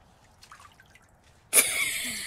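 Water suddenly starts running in a bathroom in The Sims 4. After quiet, low murmurs, a loud, steady rushing spray begins and keeps going.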